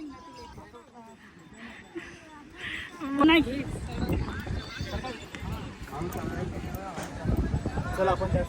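A horse on the beach at Ganpatipule whinnies, then its hooves clop in a quick, uneven rhythm close by, under continuous talk from people nearby.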